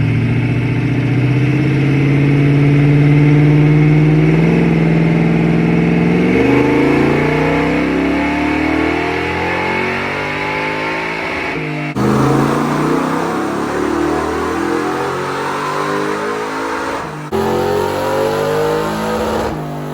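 A loud Jeep rock crawler on 40-inch tires revs hard, its engine rising and falling through several throttle blips over a rough idle, heard up close with no talking.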